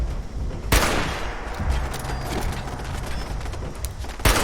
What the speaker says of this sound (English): How are they still shooting me from here?